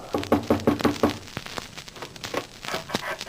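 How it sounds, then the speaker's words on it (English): In a 1941 radio horror drama, someone knocks on a wooden door as a sound effect: a quick run of close, firm raps, then scattered lighter knocks and taps. "I hurried down as they knocked on my door."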